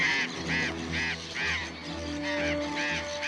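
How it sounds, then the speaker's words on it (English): A flock of yellow-chevroned parakeets in the forest gives harsh, repeated squawking calls, about seven bursts in a steady rhythm, fairly close and loud over a low background hum. "yellow chevroned parakeets, in fact."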